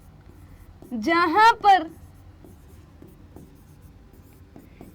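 Faint scratching of writing on a board in a Hindi class 10 physics lesson on the magnetic effect of electric current, heard softly beneath and after a short spoken phrase.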